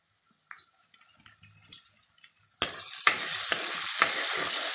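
Turmeric powder dropped into hot oil for a brinjal tomato curry bursts into a loud, steady sizzle partway through, following quieter kitchen clinks and stirring.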